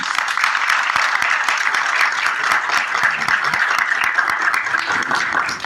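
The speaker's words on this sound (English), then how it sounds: "Could you please give a big round of applause?" Steady, dense applause from a business summit audience at a Chile–ASEAN event, many hands clapping continuously and evenly for several seconds, close and fairly loud with no speech over it.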